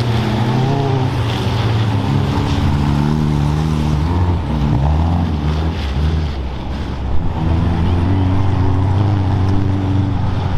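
Renault 4L race cars drone past at a 24-hour endurance race in Pipriac, their engines giving a sustained, rising and falling tonal hum mixed with wind buffeting, loud and continuous.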